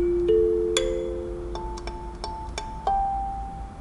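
Kalimba tines plucked in short phrases on notes 6 and 5, several bright metallic tones that ring and overlap, quiet and close with no voice.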